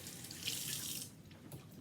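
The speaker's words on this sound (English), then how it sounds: "and then just rinsing it off. So again, with warmer water, but not too hot" Warm tap water runs into a kitchen sink, rinsing a pot by hand, a steady close splashing stream that shifts and softens as the pot moves under it.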